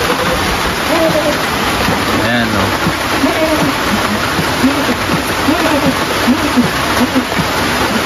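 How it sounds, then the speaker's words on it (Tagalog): Heavy rain pours in a loud, steady hiss throughout, with a person speaking briefly over it. "Grabe na po ang ulan. Palakas po ng palakas."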